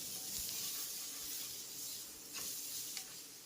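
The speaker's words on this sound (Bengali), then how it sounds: "দিয়ে ভালো করে মশলাটাকে কষিয়ে নেব" Spice masala with salt and a little sugar sautés in a pan, giving a soft, steady hiss at low volume with a couple of faint stirring scrapes and no speech.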